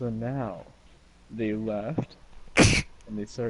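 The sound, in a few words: sneeze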